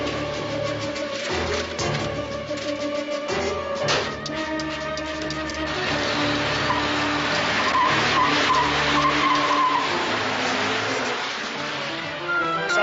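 Tires skid and squeal as a car speeds off from a San Francisco pier after a shooting, the screech loud and sustained, rising and wavering over a steady engine roar before easing at the end.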